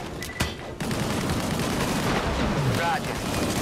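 Gunfire in the video game Disintegration: a sharp shot near the start, then a dense, loud, continuous barrage of weapon fire with rumbling bursts that fills the rest of the moment.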